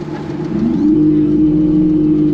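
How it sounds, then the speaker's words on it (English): A sound resonator in an electric Austin Healey 3000 plays a Lamborghini Urus engine sample, rising into a loud, steady rev that holds close and alone. "So that is the sound of a Lamborghini Urus."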